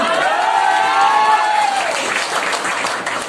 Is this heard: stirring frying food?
no